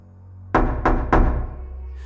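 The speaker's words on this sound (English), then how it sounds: "3 knocks, 10 feet from the door" Three heavy knocks on a front door land at an even, unhurried pace, loud and close, each a booming thud with a short ringing tail, and nothing else heard around them.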